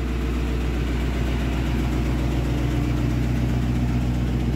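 A bus engine idles just after being started, giving a steady, close, low diesel rumble with a constant vibrating drone that holds unchanged throughout, with no talking.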